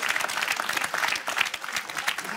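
A studio audience applauds at a game show, dense and sustained clapping filling the room at close range without a break.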